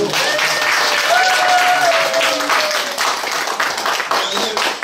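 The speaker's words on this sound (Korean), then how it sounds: "오늘 이시재 선생님께 박수 한번 보내드리고" Lecture audience applauding the speaker at an anniversary lecture series in a church, a dense, steady wash of clapping filling the whole stretch, with faint voices and tonal sounds drifting over it.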